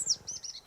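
A goldcrest gives a quick run of thin, very high-pitched chirps, several rapid notes within under a second, faint and alone.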